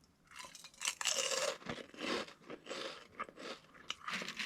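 Close, loud crunching and chewing of crispy Korean seaweed chips (gimbugak), with steady, repeated brittle bites and crackles alone in a quiet room.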